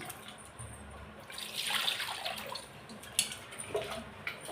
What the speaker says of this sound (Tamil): நான் புளியை நல்லா கரைச்சி விட்டுக்கிறேன்